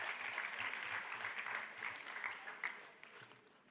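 A quiz audience claps for a three-person team after a round, a steady dense patter of many hands that holds for several seconds at moderate distance, with a few sharper individual claps near the end.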